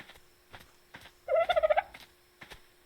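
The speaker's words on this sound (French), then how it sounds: "1, 2, peut-être 3 poulets qui se baladent" A short run of rapid, bird-like clucks from a few chickens in Ark Survival Evolved, clear and fairly close, between quieter soft tapping sounds.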